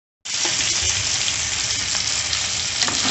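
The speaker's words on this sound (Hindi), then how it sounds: "थोड़ा से भून लेंगे" Ground spice powder and salt roasting in a hot pan make a loud, dense sizzle that starts abruptly and holds steady for a few seconds, with small crackles inside the hiss.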